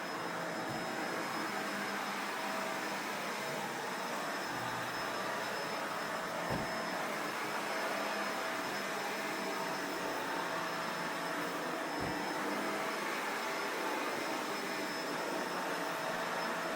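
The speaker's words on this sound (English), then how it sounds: "There is something that is just so satisfying about vacuuming an empty room like this." A vacuum cleaner runs steadily across the new carpet of an empty room, a continuous close whine and rush that holds nearly level throughout, with a couple of faint bumps.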